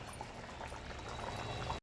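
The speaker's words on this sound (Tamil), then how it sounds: "இப்போ பாருங்க நல்லா கொதிக்குது" A pot of mutton uppu kari curry bubbling and simmering steadily at close range, with soft liquid gurgles and pops throughout, stopping abruptly.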